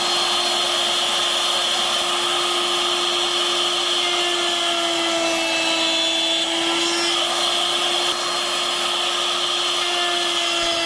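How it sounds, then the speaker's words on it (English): A hand router cuts a mortise in wood with a steady, loud whine that holds one pitch throughout, its tone wavering only slightly. "You can route safely to 1 inch or so in 1/2 a minute."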